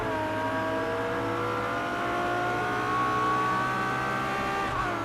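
A LaFerrari racing at high speed in Project CARS 2 on the Nürburgring, its engine holding a loud, steady, high-pitched howl with rising harmonics that climb gradually, close and continuous without pause.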